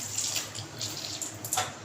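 Water runs steadily from the pipe of an LG water purifier being cleaned, a close, continuous splashing hiss for the whole stretch with no talk over it.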